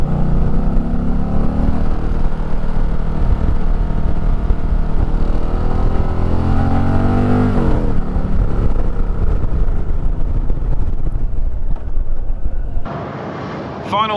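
Indian Challenger 112 PowerPlus V-twin engine under steady load while riding, a loud continuous drone that rises in pitch at points, then drops away near the end; a voice talks over it.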